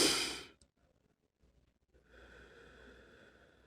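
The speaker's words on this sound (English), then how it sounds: "Make sure you do your breathing when you feel anxious." A single deep, loud breath for an anxiety-calming breathing exercise, drawn close at the start, followed by a pause and then a steady low hiss.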